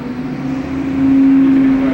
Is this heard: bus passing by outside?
yes